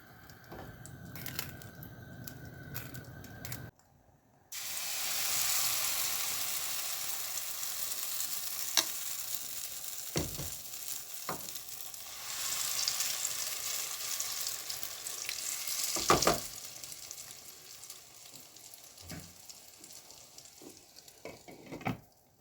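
Oil goes into a hot pan, then an egg and lentil omelette batter sizzles and fries with a broad steady hiss, broken by occasional sharp clicks and spatula scrapes, close and moderately loud.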